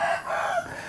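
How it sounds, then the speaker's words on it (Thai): A rooster crows in a rural backyard, a single drawn-out call heard at moderate distance over faint ambient background. "เสียงไก่ขันนะพี่น้อง"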